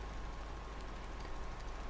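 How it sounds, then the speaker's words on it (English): Steady rain pours down in a Farming Simulator 19 game set on a British farm in late spring, a dense, even hiss of drops on surfaces filling the whole stretch without a break. "there is the rain"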